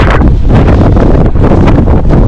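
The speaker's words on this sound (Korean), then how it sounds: "날씨가 너무 좋은데 바람이 너무 많이 불어서 이 말소리가 담기지 않을까 걱정이긴 해요" Strong wind batters the microphone on the summit of Hallasan mountain, a loud continuous roaring buffet with gusty surges throughout and no voices.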